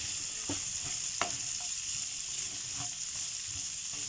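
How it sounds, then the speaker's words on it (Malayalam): Chicken and finely chopped onions fry in a pan with a steady low sizzle, broken by a few soft scrapes and knocks of stirring; no voices. "ഫ്രൈ ആവുന്ന ചിക്കനിലേക്ക് ഇനി രണ്ട് ഉള്ളി ഇതുപോലെ ചെറുതായി കഷ്ണങ്ങളാക്കിയത് ഇട്ട് കൊടുക്കുന്നുണ്ട്"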